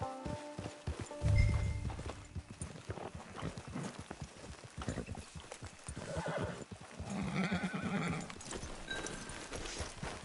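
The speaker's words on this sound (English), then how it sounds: "Get your horse." A horse clip-clops along at a camp out on the range, hooves striking in a steady close rhythm before a loud whinny rises midway, with hoofbeats continuing around it.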